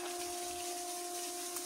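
A suction pump draws water out of a flooded underground mining tunnel, giving a steady, faint drone with a constant watery hiss and no talk.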